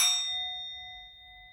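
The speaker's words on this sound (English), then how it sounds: "I'm going to ring the bell" A single bright bell strike with a clear metallic ring that slowly decays, heard alone.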